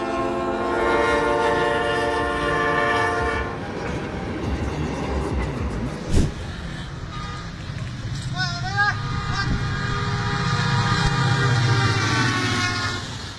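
Train rushing through a railway crossing where a car was struck, a loud sustained rumble and clatter with a long horn blast at the start and a brief squealing tone midway, heavy continuous noise throughout.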